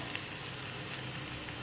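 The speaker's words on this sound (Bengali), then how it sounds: "এখন এর মধ্যে বেটে রাখা আদা রসুনটা দিয়ে দেব।" Ginger garlic paste dropped into hot oil with fried onions for a simple lunch thali, giving a steady close sizzle and crackle with no talking.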